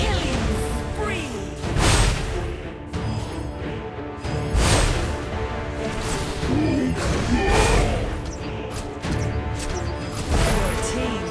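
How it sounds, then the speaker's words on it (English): A fort collapses in the video game Heroes Evolved, with heavy thuds, crashes and whooshes in repeated bursts over loud, busy game effects and music. "Your team has destroyed a fort."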